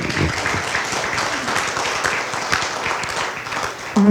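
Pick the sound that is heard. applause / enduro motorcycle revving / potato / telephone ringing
applause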